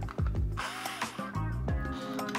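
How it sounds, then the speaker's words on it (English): A battery drill drives a screw into the fender of a 2022 City car, giving several short whirring bursts whose motor pitch rises and falls, with brief pauses between them and no talking. "we can take our battery drill and insert the second screw"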